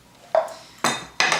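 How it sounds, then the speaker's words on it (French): Sugar goes into a metal cooking pot (faitout) while making îles flottantes, giving three sharp clinks and scrapes of metal and utensils, each striking cleanly and fading quickly, close and fairly loud. "je mets mon sucre dans mon faitout"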